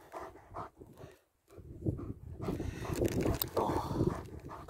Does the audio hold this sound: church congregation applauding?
no